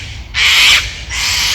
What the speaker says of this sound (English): Cockatoos